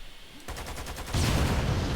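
In the video game Lost Planet 2, a rapid burst of loud, crackling barrel blasts erupts after a short quiet moment, then swells into a denser, sustained roar of explosions.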